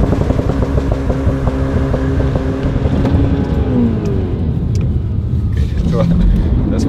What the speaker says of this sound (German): müssen hier mal ein bisschen Kupplung fallen lassen